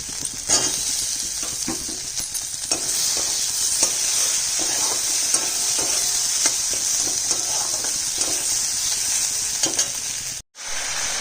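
Chopped tomatoes stirred into frying potato and eggplant with spices in a home kitchen, a steady close sizzle with scraping stir strokes throughout and a brief pause near the end.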